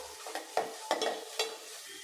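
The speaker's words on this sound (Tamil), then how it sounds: "இப்போ இதை நல்லா வதக்கி விட்டுடலாம்." Chopped onions sizzle gently in a pan while a utensil stirs and scrapes them in several uneven strokes, close up and fairly quiet.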